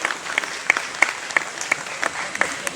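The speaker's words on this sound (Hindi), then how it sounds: "तो इन लोगों के लिए आप लोग जोरदार तालियां बजाएं।" Audience applause at a pigeon tournament prize distribution ceremony in Malihabad, heard as a steady wash of clapping with sharper individual claps standing out at a regular pace throughout.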